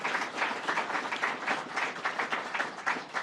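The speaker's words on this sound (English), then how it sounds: "Let's have a round of applause for that from the governor." Steady crowd applause at a New York governor's education event, dense and sustained throughout, moderately loud with no voices over it.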